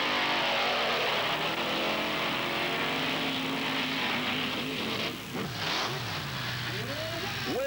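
Monster trucks Ford UFO and Chevrolet Carolina Crusher race side by side at a 1995 Wildwood, New Jersey event, engines roaring loud and steady throughout, with revving swells and whining pitch sweeps near the end.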